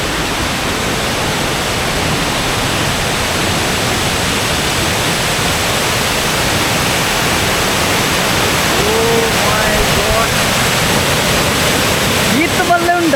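Steady, loud roar of a waterfall at Chamadka in Sullia, a dense continuous rush of falling water filling the whole clip without a break.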